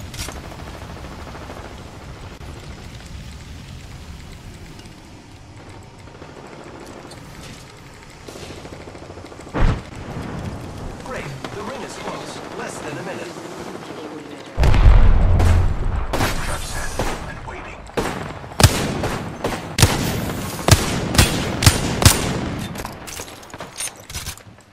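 A thermite grenade goes off in the Apex Legends battle royale game, a sudden loud burst followed by a dense run of sharp gunfire cracks and booms over a steady background rumble.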